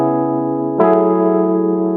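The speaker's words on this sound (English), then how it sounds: "Third, electric guitar with delay and reverb." Sustained electric guitar notes with a soft attack change midway, ringing on smoothly with a spacious, echoing tail.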